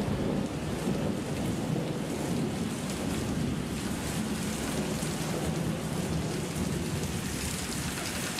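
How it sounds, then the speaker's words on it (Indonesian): Heavy rain pours down at night in a dense, constant roar, steady and loud from start to finish with a low rumble beneath, no voices. "Hujan turun begitu deras."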